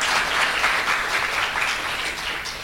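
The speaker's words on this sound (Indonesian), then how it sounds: "Tepuk tangan." A crowd applauds steadily, with dense clapping that holds at an even level throughout.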